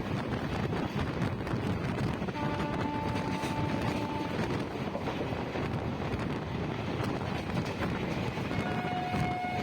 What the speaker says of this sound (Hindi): आप देख सकते हैं किस प्रकार से तेज़ी से ट्रेन चल रही है